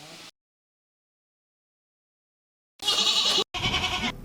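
Goats on a family farm bleat in two loud close calls near the end, following a long silence after a brief bit of sound at the start.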